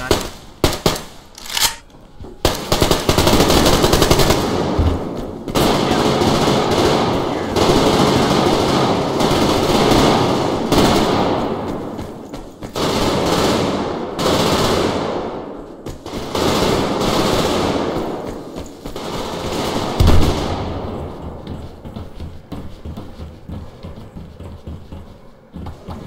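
Sustained rapid gunfire in the video game Survarium, with long dense bursts of shots going on almost without a break, loud and close, and a brief pause near the start.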